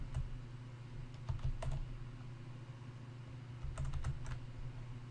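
Someone taps keys on a computer keyboard in two short bursts of quick clicks separated by a quiet gap, close up over a low steady hum.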